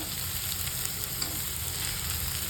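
Finely chopped dill greens frying in a pan with split moong dal, a steady close sizzle with faint stirring scrapes throughout, no voices.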